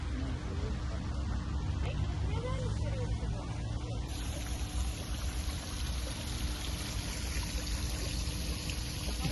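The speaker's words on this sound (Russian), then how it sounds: "у этого прекрасного водопада" A waterfall in a Krasnodar city park sends out a steady, continuous rush of falling water, with faint voices mixed in.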